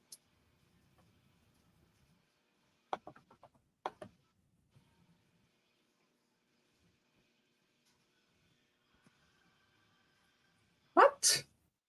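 A loud, sharp sneeze bursts out near the end, preceded by a few faint clicks and brief knocks in an otherwise quiet room with no talking.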